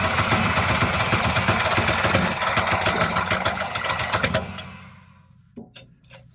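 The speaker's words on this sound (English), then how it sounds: "It's not long enough stroke for this Sawzall to get reciprocating up and down or forward and backward." A Sawzall reciprocating saw cutting in a cramped spot on a Buffalo Forge, a loud buzzing, rattling drone that runs for several seconds and then dies away, followed by a few scattered clanks.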